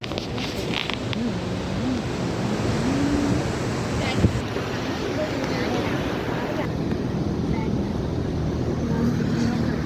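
Continuous surf from sea waves at Kappil beach in Varkala fills the scene with a steady broadband wash, mixed with wind buffeting the microphone and a few faint voices in the background.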